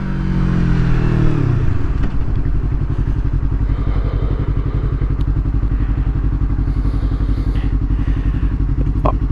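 A 2019 Yamaha R3 motorcycle blips its revs on a downshift, then settles into a loud, close, steady engine drone that carries on to the end.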